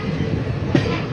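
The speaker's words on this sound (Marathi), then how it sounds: "ट्रेन बघा चालली आहे." A goods train rolls past with a steady low rumble and faint wheel clatter, a brief clunk standing out midway through the short stretch.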